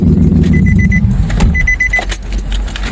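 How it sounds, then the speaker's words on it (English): A Nissan Xterra, repaired after a crank-but-no-start fault, starts up with a few rapid electronic chimes, then settles into a low, steady engine idle heard close and loud. "The vehicle starts up right away."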